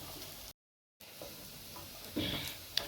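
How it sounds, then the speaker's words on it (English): Onions frying in a pot for pilau, cooked until very brown, with a steady low sizzle, a brief silent gap and a few soft stirring scrapes and clinks near the end. "make sure you fry the onions until they are brown"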